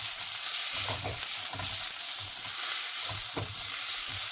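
Ginger garlic paste fries in a hot pan, a steady dense sizzle with soft stirring scrapes and small pops recurring every half second or so, close up and without talk.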